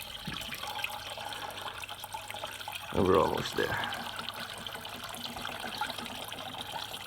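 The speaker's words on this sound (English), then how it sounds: "you're getting a bit of a gush of water out" Coolant water trickles and splashes steadily as it drains from a car radiator, with a brief louder gush partway through, while a person speaks briefly.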